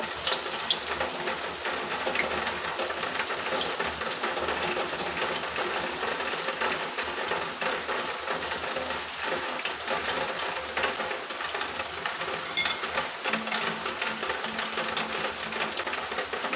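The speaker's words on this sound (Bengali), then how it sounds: "বাকি বড়াগুলো এভাবে ভেজে নেব" Drumstick leaf pakoras deep frying in hot oil, a steady dense crackling sizzle that holds evenly from start to finish, close and fairly loud, with no talking.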